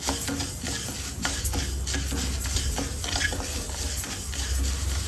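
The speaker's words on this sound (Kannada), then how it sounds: "ಒಂದು ಪಾತ್ರೆ ಬಿಸಿಗೆ ಇಟ್ಕೊಂಡು ಮೊದಲಿಗೆ ಅಕ್ಕಿ ಹುರ್ಕೊಳ್ಳೋಣ." Rice dry-roasting in a pan for thambittu, stirred continuously with a spoon, gives a steady close scraping and rustling of grains over a low hiss.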